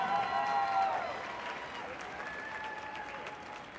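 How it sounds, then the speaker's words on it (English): Stadium crowd applauding for A.J. Frazier at an Ohio State Skull Session, a broad distant roar of clapping and cheering that eases off slightly and continues steadily. "Another round of applause for Mr. A.J. Frazier from Powell,"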